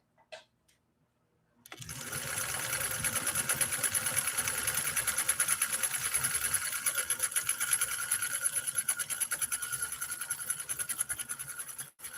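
A Nordic Husqvarna Automatic sewing machine starts after a brief quiet moment and stitches continuously for about ten seconds, a close, steady rapid mechanical whir and needle clatter with no talking.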